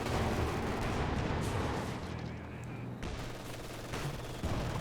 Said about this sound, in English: Mortar carriage, once again firing.